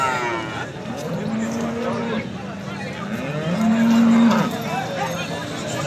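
Cows moo in long, drawn-out calls at a busy Sangola cattle market, two clear lowing bellows rising over a crowded background murmur of people talking.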